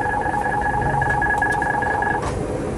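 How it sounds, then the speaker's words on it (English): Airliner autopilot disconnect warning in a flight simulator, a steady repeating electronic chime pulsing evenly for about two seconds before cutting off. "There's that ringing for the autopilot."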